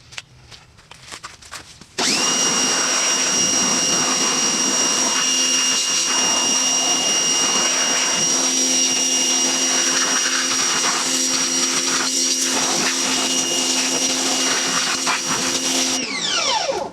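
Dirty car wheels are rinsed with a powered water spray: a loud, steady machine whine with hissing water starts abruptly, runs continuously for about fourteen seconds, then cuts off.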